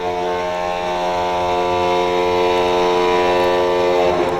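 Anaheim Ducks NHL goal horn, a deep foghorn-like blast resembling a ship's horn, sounds loud and sustained from start to finish with steady layered tones and no talking.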